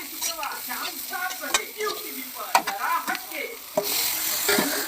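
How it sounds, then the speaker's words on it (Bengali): Cauliflower fries in oil with panch phoron, turmeric, cumin and chili powder, giving a steady sizzle under repeated scraping and stirring strokes of a spatula in the pan. "তারপর দিলাম ফুলকপি, হলুদ গুঁড়া, জিরা গুঁড়া, লঙ্কা গুঁড়া দিয়ে একটু কষিয়ে নিলাম"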